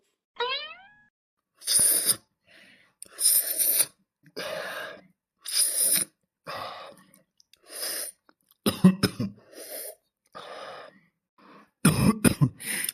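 Someone with a cold coughs and clears their throat again and again, in loud, close bursts separated by short pauses, with a brief whistling boing at the start.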